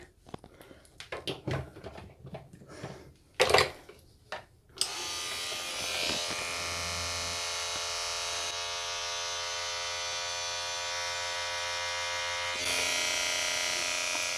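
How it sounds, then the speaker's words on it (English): Electric hair trimmers buzzing steadily around the ear during a home head shave, a close, continuous whine that follows some handling knocks and rustles. "Let me get my trimmers because I want to get like around the ear first"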